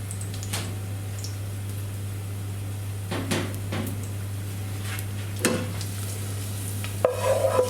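Garlic fries in oil for a prawn curry, a soft steady sizzle under a low hum, with several scraping stirs and a clack or two of utensils against the pan.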